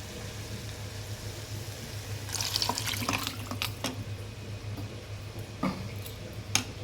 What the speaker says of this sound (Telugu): మిక్సీ పట్టుకున్న దాంట్లో కొన్ని వాటర్ అనేది వేసేసుకొని దీంట్లో అనేది వేసేసి కలిపేద్దాం